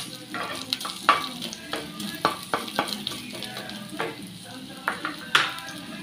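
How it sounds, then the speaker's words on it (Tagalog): Ginger browns in a hot pan, a steady sizzle broken by frequent sharp clinks and scrapes of a utensil stirring, close and unhurried. "Lutuin muna natin yung ginger. I-brown natin kaunti."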